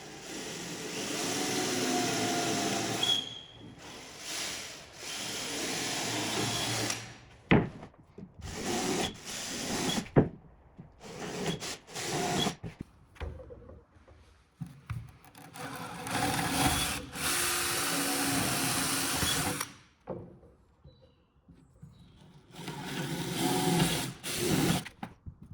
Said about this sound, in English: This long drill bit is getting a little bit blunt now